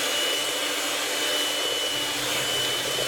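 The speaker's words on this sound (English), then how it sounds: "we'll just get our hand mixer and we're just going to beat this on a low speed" Electric hand mixer beats muffin batter made with vegetable oil on low speed, a continuous, even whirring hum held close and steady throughout.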